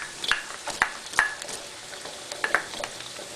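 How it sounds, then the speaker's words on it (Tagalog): Onions cooking in a pan with garlic for chicken curry, with sharp, scattered spatula scrapes and clicks over a faint, steady frying hiss, close by and fairly quiet. "Hayaan ko din namang medyo maluto ng konti yung sibuyas"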